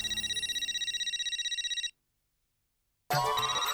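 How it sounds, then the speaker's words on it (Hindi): A telephone rings with an incoming call, a loud rapid electronic trill that pulses evenly for about two seconds, falls silent, then starts again, with no one speaking. "उसी के लिए तो मैंने फोन किया है भिड़े भाई"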